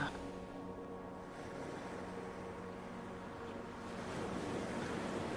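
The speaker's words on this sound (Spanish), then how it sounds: "Escuchas las olas." Ocean waves washing onto a beach, a steady soft surf rush that swells slightly toward the end, heard alone with no talking.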